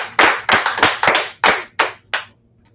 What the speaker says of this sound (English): Oh, shit, the clap button.